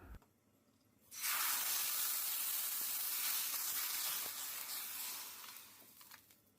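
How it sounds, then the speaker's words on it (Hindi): Hot tempering oil poured over raita bursts into a loud, close, steady sizzle that holds for several seconds and then slowly fades, with no talking. "और यहाँ लगाया है बढ़िया सा छोंका।"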